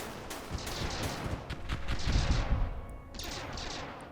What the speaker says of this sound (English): Fire the other weapons.